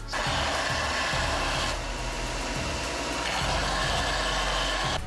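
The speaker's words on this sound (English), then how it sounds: "So I'm going to clean it up with my belt sander." A belt sander grinds down a cut steel bump stop piece for a Jeep Comanche, giving a loud, continuous abrasive roar up close, with brief shifts in pitch and pressure as the workpiece is pressed and repositioned, and no talking.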